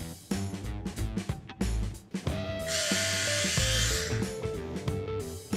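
A cordless electric screwdriver with a PH3 bit drives a screw into melamine cabinet board in several short whirring bursts, then one longer run as the screw tightens, loud and close with no talk.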